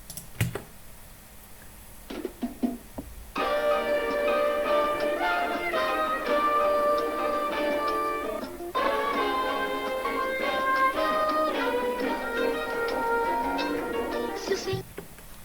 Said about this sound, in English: so we can get that saturated old as lo-fi feeling to the sample